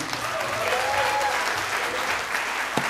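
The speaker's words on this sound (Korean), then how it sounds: "박수 좀." Applause from the crowd at a political party rally in Jeonju, a steady wash of clapping throughout, with faint voices and a sharp knock near the end.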